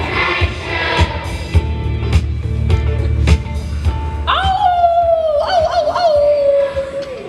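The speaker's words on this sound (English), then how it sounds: "Coyotes are out tonight." Coyotes howling outdoors on a cold night, rising and falling wavering howls near the end that follow a stretch of muffled noise and knocks, sounding fairly close.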